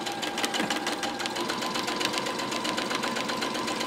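A sewing machine stitches together the fur and lining layers of a Christmas stocking, a fast, even mechanical chatter of the needle running steadily and fairly close throughout, with no voices.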